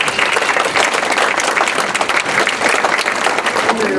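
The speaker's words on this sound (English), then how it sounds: "So please give them a round of applause." Crowd at a Veterans Day lunch event applauding the catering staff, loud and dense clapping sustained at an even level from start to finish.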